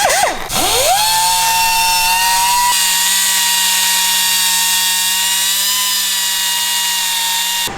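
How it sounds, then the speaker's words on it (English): A reamer enlarging holes on a Chevrolet Tahoe runs as a steady, loud, high-pitched whine that dips briefly at the start and then holds an even tone for several seconds, with no voices. "So we got the old reamer. Guess we gotta ream out some holes."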